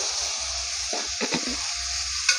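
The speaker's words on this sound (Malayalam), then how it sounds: "നല്ലപോലെ ഒന്ന് വഴറ്റാം." Chopped onion with salt sautéing in a pan, a low steady sizzle broken by a few short scraping stirs, close and moderately loud, with no talk.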